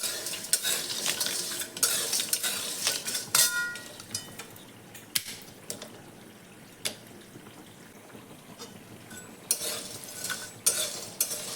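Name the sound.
heating garam masala spices in a kadhai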